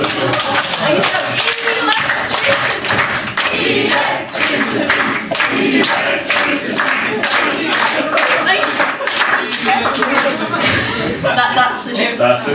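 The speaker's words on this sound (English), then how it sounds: "You clap your hands and you shout," A live comedy-night audience claps and shouts together in a loud, sustained burst of dense clapping mixed with whoops and voices, filling the room for about twelve seconds.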